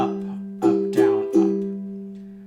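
A ukulele is strummed down and up without chucks, giving several ringing chord strokes in an uneven rhythm that sustain and fade slowly, played close and clear without any voice.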